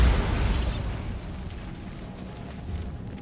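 A Bombarda spell blows apart in Hogwarts Legacy, a loud, deep boom at the start followed by rumbling, crackling debris that slowly fades over a few seconds.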